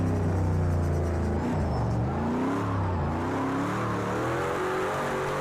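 A car engine revs hard in a racing video game mod, held high near the limiter with rising and falling harmonic tones, loud and steady throughout with no talk over it.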